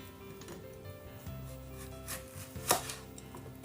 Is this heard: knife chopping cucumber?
yes